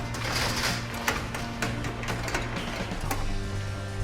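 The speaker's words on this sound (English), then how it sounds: "This is a new filter too" A new dust filter machine in an art studio runs steadily after being switched on, giving a continuous mechanical hum with tonal whine and small clicks, close and moderately loud with no talk.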